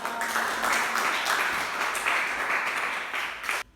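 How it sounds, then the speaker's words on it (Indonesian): Students in a classroom clap for a group's presentation, a fairly quiet, continuous patter of hands that stops abruptly at the end. "Silakan tepuk tangan dulu"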